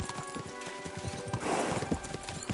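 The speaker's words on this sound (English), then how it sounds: "We should spur the horses on." Horse hooves clip-clopping at a gallop in Kingdom Come Deliverance 2, a steady rhythmic beat of several horses close by, with a brief whinny and busy in-game ambience layered underneath.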